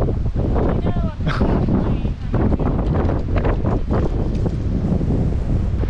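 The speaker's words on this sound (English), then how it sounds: "And the wind's blowing hard" Strong wind buffets the microphone at a mountain lookout rock in Chattanooga, a loud continuous roar with gusts, while voices speak underneath.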